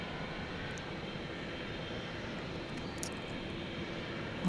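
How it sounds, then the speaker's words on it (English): A Boeing 767 jet idles near the runway at DFW Airport before takeoff, its engines giving a steady, broad roar that holds level from start to finish at moderate distance, with no voices over it. "we've got the 767 about to take off"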